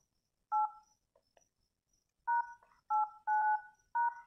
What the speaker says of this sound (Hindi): अब आपको ये कोड डायल करना है मास्टर कोड